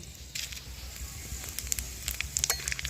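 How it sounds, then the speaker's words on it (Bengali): A bay leaf, dried chillies and five-spice seeds fry in hot oil for a pickle, giving a close, light sizzle with scattered crackles and pops that grow busier toward the end. "এবার হালকা একটু ভেজে নিচ্ছি ফোড়নটা"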